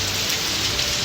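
Rain falling in a steady, dense patter of drops on surfaces, close and even throughout a brief moment with no voices.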